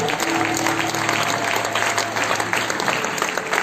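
A church congregation applauds the word of God, giving steady, dense clapping from a crowd that fills the space and carries on throughout, loud and close.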